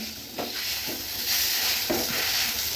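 Boiled peas and potatoes being stirred into a sizzling spice mix in a pan for atta samosa filling, with steady hiss and frying crackle and a few soft scraping strokes of the spoon, close and fairly loud.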